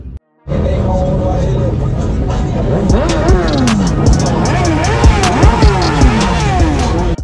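A large group of motorcycles rumbles loudly at the start of a club anniversary ride, engines idling and revving in overlapping waves close by, with faint voices in the background.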